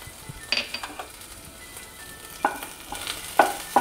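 Cumin seeds and ginger–green chili paste sautéing in a pan, a soft steady sizzle broken by a few sharp spatula scrapes and clicks, close and alone.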